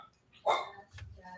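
A single short dog bark rings out during a sports talk show, fairly faint and in the background, followed by a low muffled sound.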